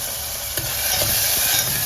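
Tomato and curry leaves fry in a hot pan with a steady bright sizzle, broken by a few soft stirring scrapes, close and with no talking.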